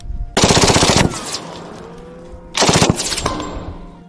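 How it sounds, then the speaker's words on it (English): Two loud gunshots from a .45 ACP handgun fired at a target beyond twenty yards, each sharp blast trailing off with a short echo, spaced about two seconds apart, with no talking. "So who would have guessed that maybe shooting 45 ACP past like 20 yards is going to be a little bit tricky?"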